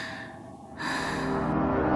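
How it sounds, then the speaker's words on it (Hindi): A woman in a Hindi horror audio drama pants and gasps in quick, heavy breaths, close and fairly loud, with the breathing growing stronger partway through. "तू इस तरह हाफ क्यों रही है?"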